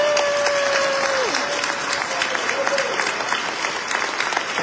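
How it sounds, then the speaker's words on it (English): A crowd at a mayor's 2024 forecast event applauds Atlantic City staff, loud sustained clapping filling the whole stretch, with a brief whistle-like tone and faint voices mixed in. "Give them a round of applause."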